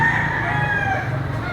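A bulky gamecock about ten to eleven months old crows loudly and close by, a single strained, drawn-out call that fills the short moment on its own.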